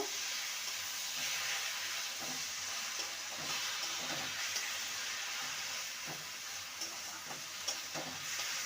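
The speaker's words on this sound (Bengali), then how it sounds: "এবারে যে সর্ষে পোস্ত নারকেল বেটে রেখেছিলাম কাঁচা লঙ্কা সেটা দিয়ে দেবো ভালো করে কষিয়ে নেব" A paste of ground mustard, poppy seed, coconut and green chilli frying in a pan for a snake gourd dish, a soft continuous sizzle and hiss with repeated scraping stir strokes, close and without speech.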